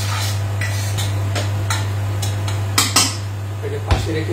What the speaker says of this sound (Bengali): আমি একটা পাত্র দিয়ে এটাকে ঢেকে দিলাম।